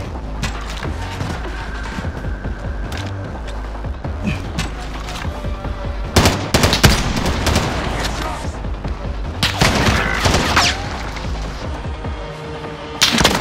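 Dense video-game gunfire rattles in rapid bursts, with louder volleys and booming shots around the middle and end, close and busy throughout.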